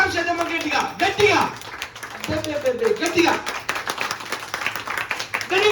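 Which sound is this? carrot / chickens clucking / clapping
clapping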